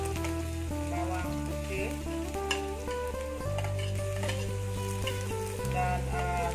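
Pounded dried chili and garlic sizzle and crackle in hot oil alongside lemongrass, onion and ginger for a venison rendang, with steady stirring scrapes close by under a continuous layer of background music.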